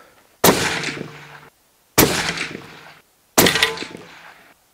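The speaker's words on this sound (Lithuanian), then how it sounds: "Ir šaunam 3 šūvius" Three suppressed gunshots fired one after another during a suppressor test, evenly spaced about a second and a half apart, each a loud sharp report with a short decaying tail, then quiet between.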